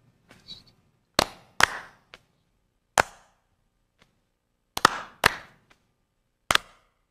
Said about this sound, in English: Hey, clap with us.